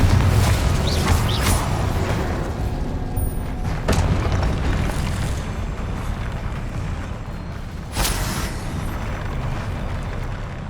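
Spell explosions from Incendio and Confringo in the video game Hogwarts Legacy rumble loudly and continuously, deep booming blasts layered with swells at about 1, 4 and 8 seconds, without speech.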